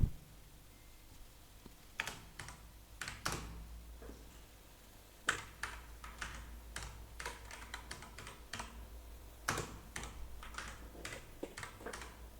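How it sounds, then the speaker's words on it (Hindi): Someone types on a computer keyboard, with steady clusters of crisp key clicks and occasional sharper taps coming in bursts, close and quiet, with no talk. "इतनी टाइपिंग मैंने ज़िंदगी में नहीं की जितनी आज कर रहा हूँ।"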